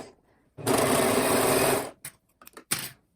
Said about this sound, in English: make sure you go nice and slow on your machine and that you catch everything